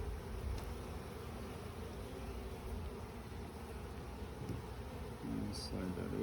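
Honeybees drone in a dense, steady buzz at an open hive frame, close and continuous, with light handling clatter of the frame near the end.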